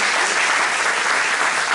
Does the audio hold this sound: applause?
yes